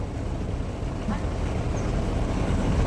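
A boat motors along a river on the way to Gosaba in the Sundarbans, its steady low engine rumble and wash blending with wind noise, continuous and moderately close.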